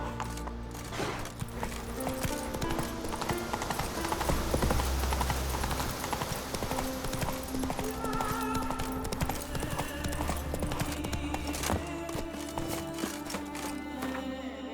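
Roach, the horse in The Witcher 3, gallops with steady rhythmic clip-clop hoofbeats throughout, loud and close, layered over an orchestral game score with a brief whinny-like accent.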